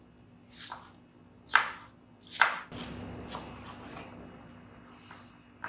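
Knife slicing through a head of cabbage on a board while preparing chicken fried rice: three crisp, separate cuts about a second apart, close and fairly quiet, then a softer crunchy rustle.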